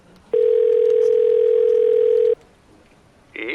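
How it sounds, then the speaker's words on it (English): A telephone dial tone played over speakerphone, a single loud steady tone lasting about two seconds, then a quiet gap before further phone tones begin. "dials the phone on speaker"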